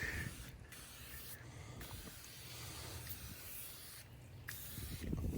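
Wipe New Fierce tire cleaner sprayed onto car tires in repeated broadband hissing bursts, several spray pulses separated by short pauses, close and fairly quiet with no talking.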